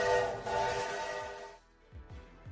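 A train horn sounds loudly in long sustained blasts, cuts off to near quiet, then returns briefly with low rumbling bursts, no talking.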